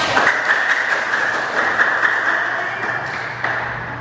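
Classroom participants clap for a student named Marisa during a teacher coaching session, a steady patter of many hands that carries on evenly for several seconds in a reverberant room.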